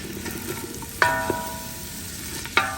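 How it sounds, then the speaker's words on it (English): Onions sautéing in olive oil over medium-high heat for tomato soup, a soft steady sizzle with a few metallic clinks of a utensil against the pan as they are stirred. "we want to saute our onions until they are translucent. There we go. I'm going to stir this up."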